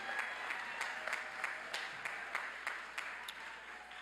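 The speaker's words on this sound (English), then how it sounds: "how about another big round of applause for our master's students?" A commencement audience gives a round of applause for graduating master's students, steady dense clapping from a large crowd that carries on evenly throughout without talk.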